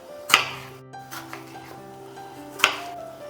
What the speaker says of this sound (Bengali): এখানে আমি একটা মিডিয়াম সাইজের টমেটো নিয়েছি, এটাকে একটু ছোট করে কেটে নেব।